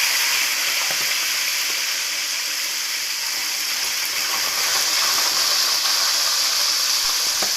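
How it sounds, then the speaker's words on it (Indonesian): Fish half-cooking in hot oil gives a continuous loud crackling sizzle that holds steady throughout, with no voices. "panaskan minyak, lalu goreng ikan setengah matang"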